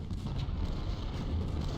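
Artillery cannon fire in the Civil War strategy game Ultimate General: Civil War, a steady rumble of overlapping booms and distant gunfire filling the short stretch without pause, no voices.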